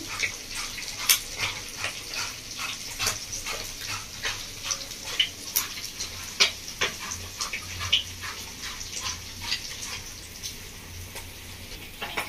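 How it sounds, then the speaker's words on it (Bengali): Eggplant and potato being tossed with spices and a spoonful of panch phoron, a steady run of soft wet clicks, scrapes and squelches up close, with no voices. "সবকিছু একসঙ্গে ভালো করে মিশিয়ে নেবো।"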